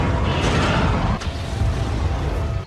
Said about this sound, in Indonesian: menyebabkan ledakan besar